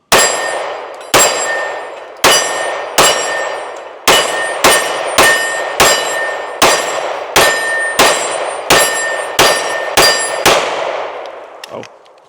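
Canik Mete MC9L pistol shots ring steel targets in a rapid series of about fourteen sharp clangs, each with a ringing tail. The pace is fairly regular and the final hit decays longest.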